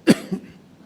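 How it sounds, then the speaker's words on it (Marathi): A single short, dry cough close up, followed by a softer second cough, then quiet. "कोरडा खोकला आहे"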